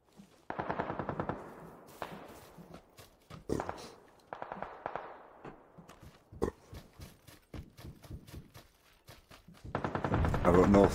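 Rapid bursts of automatic gunfire from an Xbox One battle royale squad match crackle in several volleys, with single shots scattered between, while players talk over the action.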